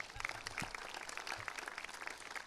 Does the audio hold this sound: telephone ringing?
no